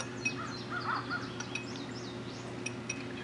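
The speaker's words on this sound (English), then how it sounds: "Stupid birds." Birds call repeatedly outdoors during a breakfast with a view, their scattered honking cries sounding at moderate distance over a steady low background hum.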